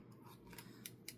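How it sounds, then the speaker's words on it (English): Several quick scissor snips cutting tape during bookbinding, crisp and close, spaced irregularly with short pauses between cuts. "I hate using my good scissors on this tape."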